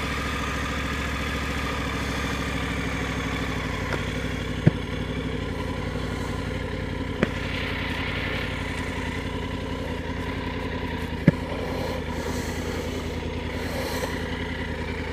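A Triumph Tiger 900 GT Pro motorcycle engine idles steadily after starting, a low even rumble with a few sharp clicks and clatters over it, no talking.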